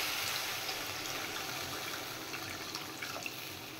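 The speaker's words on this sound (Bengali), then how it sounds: "এবার পরিমাণ মতো জল দিয়ে দেবো" Water is poured into a cooking pot of fried fish, a steady, fairly faint rushing splash that continues evenly throughout with no talk.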